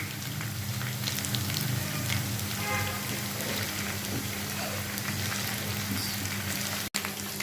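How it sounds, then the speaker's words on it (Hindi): Ginger and garlic frying in oil for a daal maash dish, a steady close sizzle that keeps going throughout with a faint voice in the background. "इसको गोल्डन होने तक फ्राई करूंगी।"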